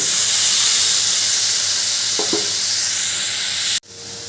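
Water poured into hot spiced masala that has been cooked until the oil separates, for a raw banana curry, giving a loud steady sizzle and hiss that cuts off abruptly near the end, with a brief stir in the middle.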